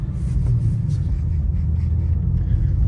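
A 2024 BMW M2 Coupe engine shifts into second gear, giving a deep, steady low rumble heard close from inside the car, with no speech.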